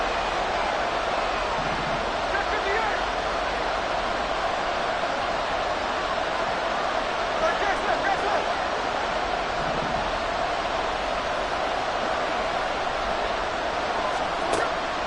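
A football stadium crowd on its feet during a Dolphins game roars as a loud, constant wash of noise, with an announcer talking over it throughout.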